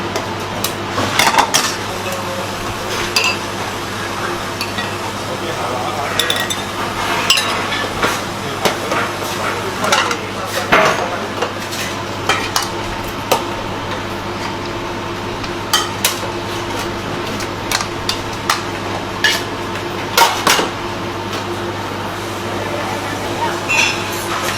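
Busy kitchen at the Tai Hwa minced meat noodle stall in Singapore, with steady clatter of pots, utensils and dishes, a constant hum and steam hiss, and voices talking throughout.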